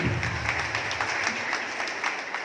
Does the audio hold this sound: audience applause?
yes